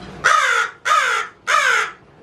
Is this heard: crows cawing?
yes